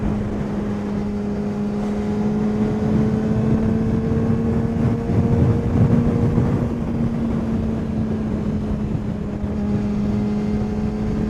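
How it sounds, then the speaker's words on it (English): Heavy, roaring wind noise rushes continuously past a rider on a supersport street motorcycle during a commute, with a steady low engine drone underneath and no talking. "with it is the wind noise is just absolutely god-awful. Horrible wind noise."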